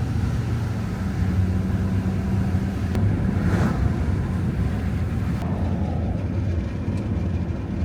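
A Ford truck drives down the road towing a Chevy LBZ Duramax pickup with 340,000 miles on it. Steady, loud road and wind roar with engine rumble runs throughout, with no voices.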